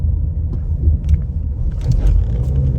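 A 2024 Ford Mustang EcoBoost rolls slowly over a road bump, a loud close low rumble of road and engine noise inside the cabin with soft thuds from the suspension, no talking.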